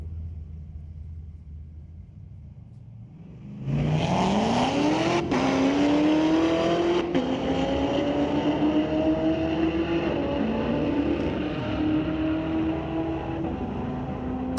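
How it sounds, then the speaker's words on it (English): A Corvette launches down the drag strip at a Friday night street legal drag race at Mission Raceway Park, its engine bursting in loud after a quiet start, then roaring steadily with rising pitch through gear changes as it runs away. "I just wanted to hear that Corvette. Man, that sounded great."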